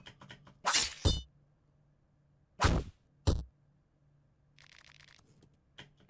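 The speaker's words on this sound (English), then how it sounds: "Let's try force the door." A door being forced in the video game Fear and Hunger 2: several sharp, loud thuds and cracks in quick pairs, separated by silence, followed by a softer, rattling scrape and a final faint knock.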